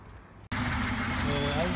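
A VAZ car engine fitted with a contactless distributor starts abruptly after a brief quiet moment, then settles into a steady, close idle with a voice heard over it.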